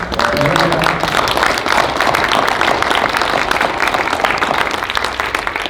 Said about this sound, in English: Let's have another round of applause for our panelists.